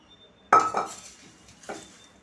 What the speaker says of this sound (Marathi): फोडणी केलेली मी ही सर्व या चिवड्यावर टाकली आणि मिक्स करायचं